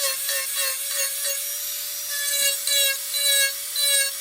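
Carving tool blending the face of a carved wooden owl, a steady close-up scraping with short rhythmic strokes that swell and ease, alone without talk.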